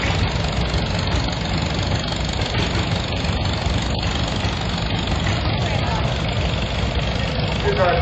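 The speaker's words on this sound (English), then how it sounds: "Here's a 1949 Farmall M." A 1949 Farmall M tractor engine at an Illinois steam power show, with a steady, loud idling chug that runs continuously, while a voice talks over it.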